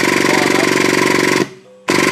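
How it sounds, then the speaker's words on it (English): A MultiCut hydraulic punch press with a balanced drive system runs loudly and close, a dense rapid mechanical rattle that cuts out for a moment leaving a faint hum, then roars back in. "beginning the punch operation"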